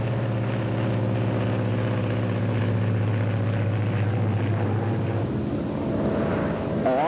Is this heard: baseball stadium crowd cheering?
no